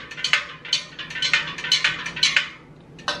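A plastic-coated whisk stirs milk in a pot for cheese, giving a quick, rhythmic series of light scraping clicks, about a dozen strokes, close and clear with no talk.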